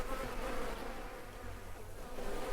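Bees buzz around farm beehives in the video game Farmer's Dynasty, a continuous, moderately loud droning hum that holds steady with no speech.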